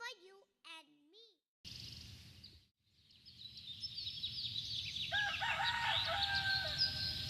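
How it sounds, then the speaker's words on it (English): Morning birdsong opens with a rooster-like crow. Busy chirping and tweeting then builds and grows loud over a low murmur, played during a preschool's annual parents day stage performance. "The birds are singing on the trees."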